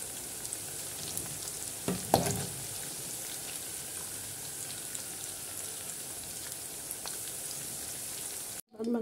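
Potatoes deep-frying in plenty of oil, a constant crackling sizzle like light rain on a surface, with a couple of louder clatters early on and a brief cut just before the end.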